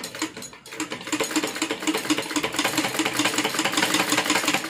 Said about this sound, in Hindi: इसे रखते हुए बिल्कुल सीधा सिलते जाना है।